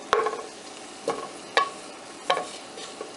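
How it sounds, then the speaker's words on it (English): Bacon browning in a pot, a steady low sizzle broken by four sharp scraping clatters as it is stirred, close and clear with no speech. "We've got the bacon in the pot. It's starting to brown nicely."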